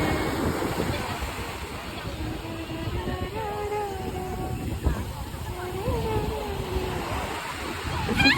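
Waves and wind at Kozhikode beach, a steady surf wash and wind rumble across the whole stretch while someone talks over it.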